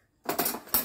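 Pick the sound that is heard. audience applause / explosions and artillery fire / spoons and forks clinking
spoons and forks clinking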